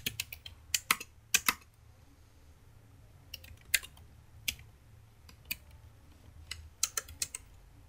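Verilog code is typed on a computer keyboard in close, irregular bursts of crisp keystrokes separated by short pauses, with no talking.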